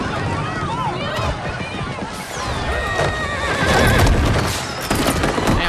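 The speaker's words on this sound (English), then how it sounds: "What was going on with that horse?" Several horse whinnies rise and fall amid loud, busy clatter and rushing noise, with voices mixed in, all dense and close, in Mortal Kombat 1 story mode.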